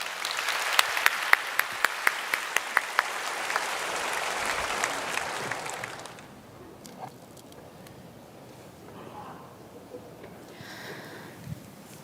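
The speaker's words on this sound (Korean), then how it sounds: "나오실 때 우리 박수로 맞이해 주시기를 바랍니다." A church congregation applauds as a member comes forward to share a testimony: about six seconds of close, lively clapping that then fades to a quiet room with faint rustles.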